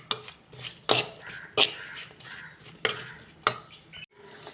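Sliced tomatoes are stirred into a fish curry in a pan, with a series of sharp scrapes and clinks from the spoon against the metal, evenly spaced over a faint sizzle.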